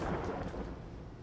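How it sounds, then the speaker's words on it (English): Nearby thunder rolling in a low, heavy rumble that fades slowly over a second or so, with no voices over it. "I think we'll have a thunder shower."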